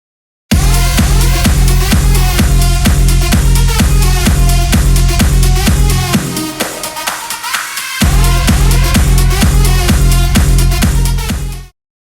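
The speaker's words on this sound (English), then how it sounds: "if we cut out some lows and add a bit of washout, the result will sound like this" Loud, steady beat-driven music with a thinned-out bottom end and a hazy, washed-out quality, briefly dropping to a filtered break before the full groove returns.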